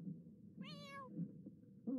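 A cat in The Sims 4 meows once, clear and fairly close, followed by a brief second meow starting, over a soft low room hum with no talking.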